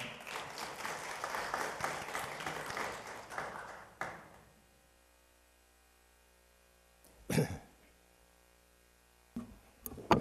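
Audience applause at a Korean National Assembly policy debate on digital piracy, a steady burst of clapping for about four seconds that dies away, then quiet with a couple of brief knocks or shuffles.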